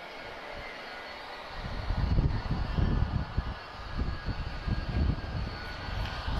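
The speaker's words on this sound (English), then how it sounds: "And this 767, guys, powered by two Pratt & Whitney 4056 engines." A Boeing 767 with two Pratt & Whitney 4056 engines roars on its takeoff run. The engine noise is low, rumbling and steady, building and holding for several seconds at a moderate distance.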